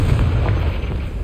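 A Confringo spell explodes in the Hogwarts Legacy video game, a dense, sustained low rumbling blast that stays loud and steady throughout without any voices.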